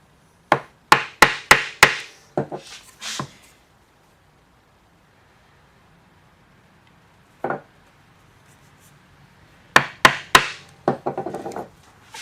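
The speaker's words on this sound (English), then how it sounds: "I will go ahead and using a chisel define my layout" A chisel is tapped with a hammer into wood to define a cornhole board layout: quick bursts of sharp, close knocks in groups of four or five, a long pause with one lone strike, then another rapid run.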